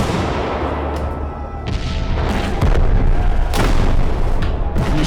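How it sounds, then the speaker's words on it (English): A Civil War artillery battery of Michigan gunners firing on charging Confederates, with heavy booms arriving in quick, uneven succession over a loud, rumbling battlefield din. "The Michigan men fire 64 rounds."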